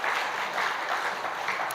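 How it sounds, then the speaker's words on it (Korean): A church congregation applauds together to encourage its volunteers, a dense, steady wash of clapping that holds even and close throughout the short burst. "우리 함께 박수로 격려하는 시간을 가졌으면"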